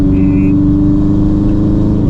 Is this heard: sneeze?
no